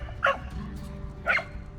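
A dog gives two short, sharp barks about a second apart, fairly close, over a quiet background with no talk.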